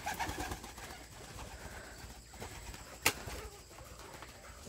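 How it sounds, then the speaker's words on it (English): Pigeons coo softly and faintly in a backyard aviary against a quiet background, with one sharp click a little past the middle. "I traded some quail and we got some pigeons."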